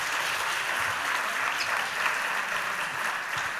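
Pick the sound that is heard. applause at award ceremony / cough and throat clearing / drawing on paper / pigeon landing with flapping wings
applause at award ceremony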